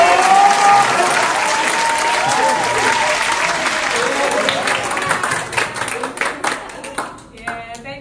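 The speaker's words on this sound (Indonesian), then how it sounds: "Boleh tepuk tangan sekali lagi buat Pasca Lunas" Audience at a church youth service applauding, a dense burst of clapping at first that thins into scattered claps and fades out near the end, with a voice briefly audible.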